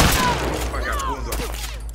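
A rapid burst of video-game gunfire from The Last of Us sounds loud and close during a firefight, with brief shouted voices and game effects mixed in.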